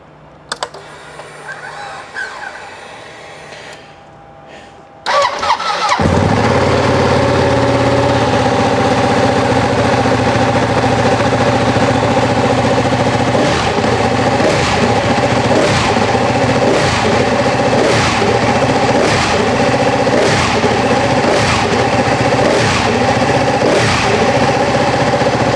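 After a few seconds of near quiet, a Ducati Panigale motorcycle fitted with an aftermarket titanium exhaust fires up and settles into a loud, lumpy idle with a steady, throbbing pulse, close by.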